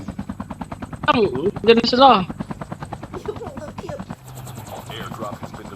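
Helicopter rotor chopping steadily through a Call of Duty Mobile Blackout battle royale match, a loud pulsing thud throughout, mixed with gunfire bursts while players talk excitedly over it.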